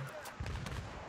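Rapid bursts from an M240 Bravo general-purpose machine gun in the shooter Battlefield 3, a few heavy booming shots packed into a second, loud and close.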